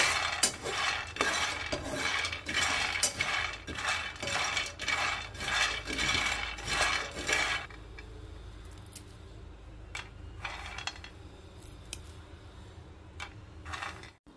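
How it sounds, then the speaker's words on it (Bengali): Peanuts dry-roasting in a pan on the stove are stirred, giving a rapid rhythmic rattling and scraping for several seconds before the stirring stops and only scattered clicks and light clatter remain. "বাদামগুলো প্রথম যখন চুলার উপরে দিয়ে নাড়িয়েছি তখন কিন্তু একরকম শব্দ ছিল, যখন হয়ে গিয়েছে তখন কিন্তু অন্যরকম শব্দ এসেছে"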